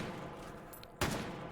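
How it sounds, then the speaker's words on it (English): A single sharp gunshot from an incendiary round, fired at a Sosig in a video game, cracks out loud and close after a quiet stretch of low background noise. "using the one taps of those incendiary rounds to really just decimate through those Sosig's noggins"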